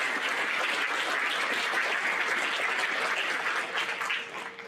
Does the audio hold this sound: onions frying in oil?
no